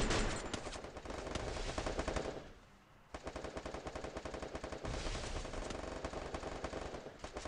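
An M60 machine gun fires in a video game, loud rapid bursts of automatic gunfire that pause briefly near the middle before resuming in a long sustained burst.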